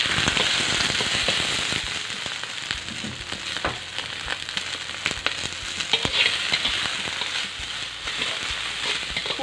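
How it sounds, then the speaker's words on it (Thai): Silkworm pupae dry-roasting in a pan with a little oil give a dense crackling sizzle with scattered sharp pops and steady stirring scrapes, close and continuous. "ดักแด้ลงไปคั่วค่ะ"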